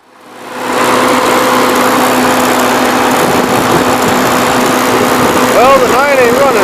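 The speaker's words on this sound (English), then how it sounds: "it's definitely got a miss on one cylinder as well" An old farm tractor engine runs steadily with a miss on one cylinder, a loud, continuous close-up drone that starts as it fades in and holds throughout, with an uneven, lumpy undertone.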